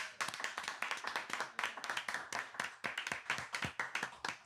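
A crowd of people claps steadily and briskly throughout, a dense, even patter of many hands with no voices on top.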